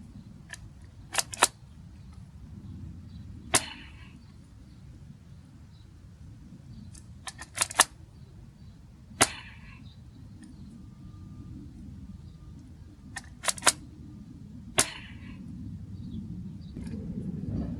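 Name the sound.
toy foam dart blaster firing from top barrel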